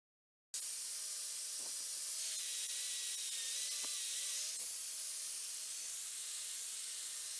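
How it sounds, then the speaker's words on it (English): An angle grinder with a wire wheel cleaning a tomahawk head forged from a ball peen hammer head: a steady, loud whirring hiss with a faint constant whine, starting abruptly and running throughout, broken by a few light scraping ticks. "here we are after taking the wire wheel to it on the angle grinder"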